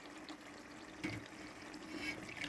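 Tamarind extract is poured into a pot of Andhra-style fish curry, a soft, faint trickle of liquid heard up close with no talk.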